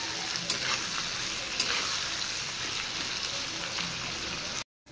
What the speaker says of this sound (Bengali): এবার পেঁয়াজগুলো একটু ফ্রাই করে নেব